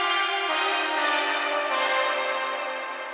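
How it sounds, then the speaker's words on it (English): Bass house synth chords drenched in heavy reverb, a sustained wash of bright harmonic tones swelling and fading in slow pulses, loud and alone with no voices, part of a remix of a song. "I used some bass house synths, but added a shit ton of reverb on top of it."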